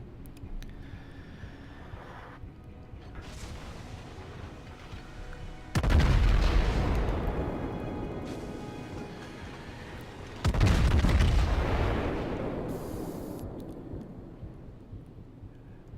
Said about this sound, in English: out of every single gun he fired, only 2 shells hit